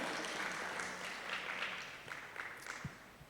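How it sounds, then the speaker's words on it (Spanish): A church congregation applauds in a sustained wash of clapping that gradually thins and fades, with a few scattered claps standing out near the end. "Denle un fuerte aplauso a nuestro Dios"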